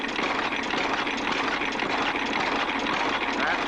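A 1904 Hicks engine running in reverse gives a loud, steady, close mechanical drone with a continuous chugging texture, uninterrupted for the whole stretch.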